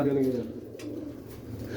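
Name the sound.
pigeons cooing after release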